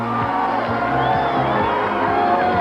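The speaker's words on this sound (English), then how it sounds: "the crowd was beginning to cheer as Scott Molina approached the finish line" A crowd at the finish line of the 1988 Hawaiian Ironman World Championship, cheering loudly and continuously with shouts and whoops, while a voice speaks over the noise.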